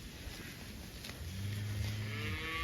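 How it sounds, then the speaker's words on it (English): One cow in a cow/calf herd on pasture lets out a long, low moo in the latter half, fairly distant over a steady outdoor background, with no voices. "I've never in my life seen this many cows"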